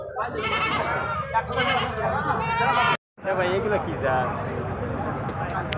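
Black Bengal goats crowded at the Gas Line goat market in Ullapara, Sirajganj, bleating loudly and almost without pause, many wavering cries overlapping close by, with a brief cut in the middle.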